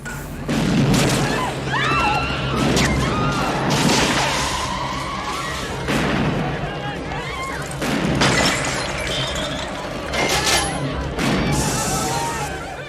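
Gunfire tears through a store in a film scene, loud repeated bursts and booms mixed with shattering and crashing goods in a chaotic, echoing space.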